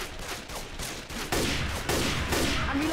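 Rapid gunfire in the Left 4 Dead 2 video game, dense overlapping shots in bursts that grow louder, close and loud with no talk.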